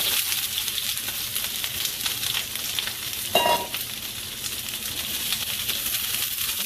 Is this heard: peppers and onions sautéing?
yes